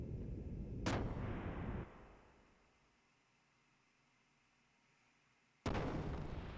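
A ship's gunner fires a cannon in the Xenogears video game, with two loud booming blasts several seconds apart. The first blast rolls into a long rumbling decay before the second hits abruptly.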